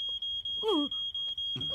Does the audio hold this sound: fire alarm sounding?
yes